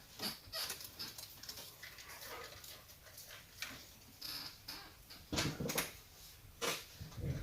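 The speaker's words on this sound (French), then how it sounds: "Si je me lève, mon chien se lève." A pet dog stirs and gets up indoors beside a painting workspace, its movement heard as soft shuffles, light ticking claw taps and faint panting and whimpers, low and close, with a few louder bursts near the end.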